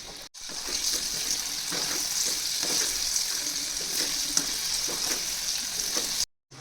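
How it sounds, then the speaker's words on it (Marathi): Coated mushrooms sizzling steadily in hot oil for a restaurant-style crispy mushroom chilli, a dense continuous frying hiss heard up close with crackling bubbles throughout and no talking. "आता आपण कोट केलेले मशरूम यामध्ये फ्राय करण्यासाठी ठेवणार आहोत"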